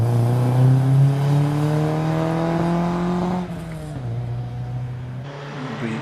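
A BMW E30 318i race car, number 24, accelerates hard at a speed hill climb, its engine note rising steadily through a gear before a shift drops the pitch and it pulls on, loud and close.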